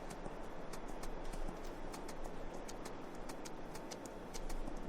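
A horse in Farming Simulator 22 clip-clops along at a steady, even walking rhythm, a quiet but clear run of hoof strikes lasting several seconds. Light bird chirping sits in the background, and no one talks.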